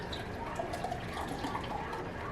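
Saugatuck Ghost of Neapolitan milk stout, a white stout, pours into a glass with a soft, steady liquid trickle and faint bubbling, quiet and close.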